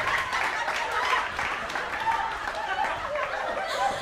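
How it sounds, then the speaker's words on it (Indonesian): A crowd at a youth cultural camp appreciation event claps in a moderate, scattered round of applause, mixed with light chuckling and a murmur of voices underneath. "Tepuk tangan Rahmat Ababil."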